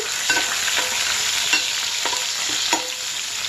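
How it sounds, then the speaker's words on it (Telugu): Green chillies and onions fry in a pan with a steady, close sizzle, broken by several sharp scrapes of a spoon stirring them. No voices. "పచ్చిమిర్చి, ఆనియన్స్ దోరగా వేగాలి ఫ్రెండ్స్."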